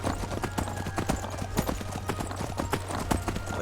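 Horse hooves clip-clopping steadily in the video game Skyrim, a brisk, even rhythm of hoof strikes throughout over a low ambient hum, with faint background sound.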